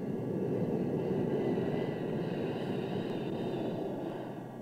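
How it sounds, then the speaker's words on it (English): An EC-135C jet stratotanker on a Looking Glass airborne command post flight from Offutt Air Force Base gives off a steady, loud broadband engine roar that holds for several seconds and eases slightly at the end. "Looking Glass missions are flown from Offutt Air Force Base by EC-135C jet stratotankers."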